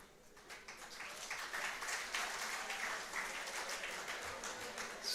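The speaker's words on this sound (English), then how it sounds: "let's encourage our presentation who participated with a huge round of applause" An audience at an international conference claps for the poster presentations, a faint, steady patter of applause sustained throughout.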